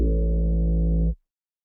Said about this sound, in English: I think it's a dubstep sound from Looperman.